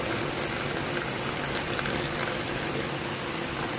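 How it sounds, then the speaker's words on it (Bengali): Heavy monsoon rain pours steadily during a flood, a dense continuous hiss and wash of water heard from a two-storey building, with no voices over it. "কি পরিমাণে বৃষ্টি হচ্ছে"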